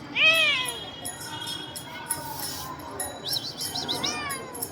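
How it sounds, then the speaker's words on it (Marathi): A pet cat meows several times, clear and close, with a rising-falling meow at the start and more short cries toward the end, while people talk quietly nearby. "त्यांच्याकडे पण कॅट ही आहे बुब्या आहे"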